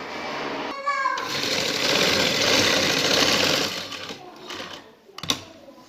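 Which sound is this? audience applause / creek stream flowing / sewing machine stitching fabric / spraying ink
sewing machine stitching fabric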